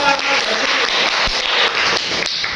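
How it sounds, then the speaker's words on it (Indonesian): A classroom full of people claps steadily in brisk applause, dense and close, lasting a couple of seconds. "tepuk tangan"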